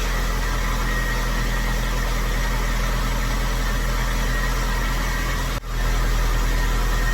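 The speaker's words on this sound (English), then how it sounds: "So as you can hear, it's really starting to kind of come into its groove, be in its base idle where it normally always is." A car engine idles steadily after being brought out of storage, a close, even low hum with a constant drone and one brief dip near the end.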